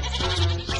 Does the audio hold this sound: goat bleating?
yes